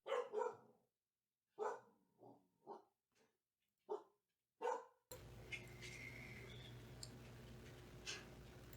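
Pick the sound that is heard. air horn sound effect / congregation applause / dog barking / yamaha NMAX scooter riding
dog barking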